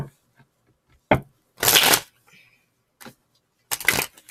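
Tarot clarifier cards shuffled by hand in quiet surroundings, with several short crisp riffling bursts separated by pauses and a faint tap or two in between.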